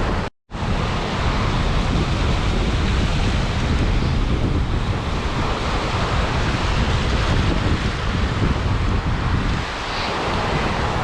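Sea surf rolling onto a rocky point along the shore while sea trout fishing, a steady broadband wash of breaking waves mixed with gusty wind buffeting the microphone, continuous and loud throughout.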